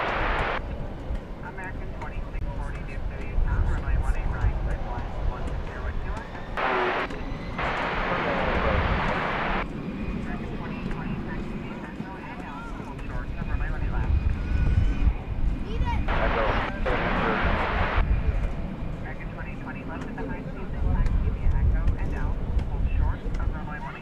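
A Turkish Airlines airliner taxis at DFW Airport, its engines a steady broad roar at a distance, with several louder whooshing swells and a person talking over it.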